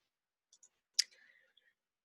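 A single sharp mouse click on a computer, close and quiet, with a couple of faint tiny clicks just before and soft rustling after.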